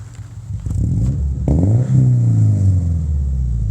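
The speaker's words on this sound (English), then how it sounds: "Give it a couple revs." A Subaru engine blowing heavy blue smoke revs up with a rising, throaty roar, then settles into a loud, steady rumble close by.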